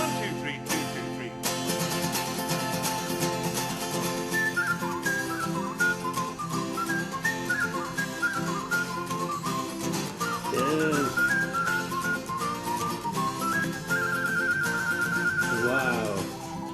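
Someone whistles a melodic tune over orchestral backing, playing from a TV clip; the whistled line runs steadily and prominently over music, with some voices mixed in.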